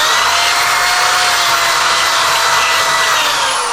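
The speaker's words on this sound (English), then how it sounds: "you can purchase a rotary file. Go on your 3/8 drill." A 3/8 drill fitted with a rotary file reams out a hole in wood, giving a continuous loud, high-speed whirring and grinding that holds steady throughout with no talk over it.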